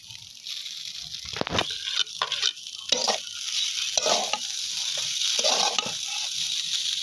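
Scrambled egg goes into chow mein frying in a pan in a village kitchen, raising a loud steady sizzle broken by the scrape and clatter of stirring, with no voices.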